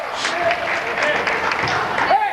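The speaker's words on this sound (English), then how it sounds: "And the crowd right into it, believe me." A high school basketball crowd cheers and claps in a short, loud burst, with voices rising and falling throughout the two seconds.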